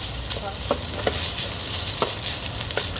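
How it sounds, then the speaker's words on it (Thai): Steady close sizzle of pork khua kling being stir-fried with kaffir lime leaves and vegetables in a hot pan, with a few scraping spatula strokes over the constant frying hiss. "เราจะทำการคั่วต่ออีก นิดหน่อยนะครับ"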